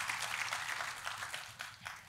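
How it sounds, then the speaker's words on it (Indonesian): A church congregation applauds together during a sermon, a fairly faint, dense clapping that carries on for a couple of seconds and then thins out, with no speech over it. "Tepuk tangannya boleh sekali lagi yang paling meriah buat Tuhan"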